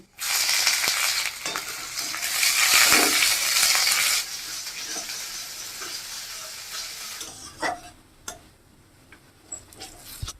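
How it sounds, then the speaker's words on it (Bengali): Steady, bright sizzling of onions frying in hot oil with dried red chilli and panch phoron, loud at first and easing off, with occasional scraping and clinks of a utensil. "পেঁয়াজটা ভাজা হয়ে গেছে"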